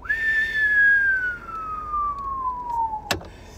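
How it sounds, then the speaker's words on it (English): A single long descending whistle by a man, a clear pure tone sliding steadily downward for about three seconds before a sharp click, with no talk over it. "Usually when I whistle like that, it means something was very expensive."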